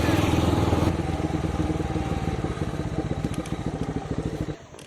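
A motorcycle engine running while the bike is parked at a Sunday market, a close, loud, rapid putter that holds steady before dropping away at the end.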